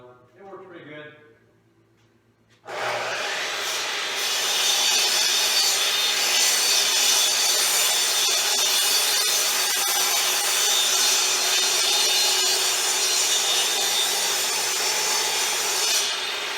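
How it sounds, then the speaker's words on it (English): A chop saw cuts a wooden rail post for a pole barn loft to a set depth, a loud steady whine and rasp that kicks in after a short quiet start and runs on without a break. "So I use my chop saw over here just to cut the depth, so I just don't plunge it down as far."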